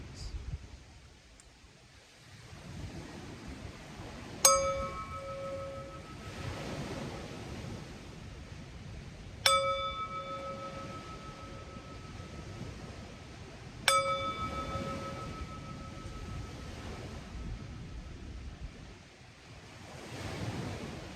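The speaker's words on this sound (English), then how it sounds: "breathing in and out while I chime the bell 3 times" Three resonant meditation bell strikes spaced about five seconds apart, each ringing out slowly over a soft, wind-like background rush.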